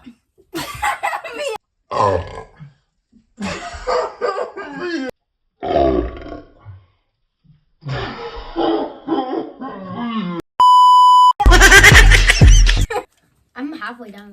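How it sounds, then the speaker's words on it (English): A girl belches loudly during a no-burping challenge, a deep guttural burp among bursts of nearby talk and laughter, followed by a brief electronic tone and a loud noisy outburst near the end. "Wait, I burped."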